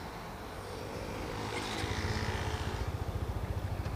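A Dafra Apache RTR 200 motorcycle engine starts up, a rising whir settling into a quick steady thumping idle, moderately quiet and close with no voices.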